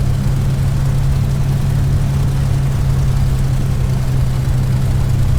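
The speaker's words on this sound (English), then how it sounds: "Running up your engine, checking your magneto." An A2A P-51D Mustang in Flight Simulator X runs up its engine on the ground, a loud, steady, deep droning roar that holds constant throughout.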